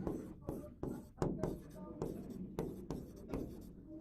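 A teacher writes on the board during a physics lecture, with sharp tapping strokes and scratchy writing runs in an irregular rhythm, close and fairly quiet, alongside faint speech.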